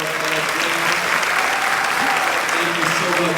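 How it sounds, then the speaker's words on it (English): Steady crowd applause at a formal pageant-style gala for an honored dame, many hands clapping continuously at even volume with a murmur of voices underneath. "give her a round of applause."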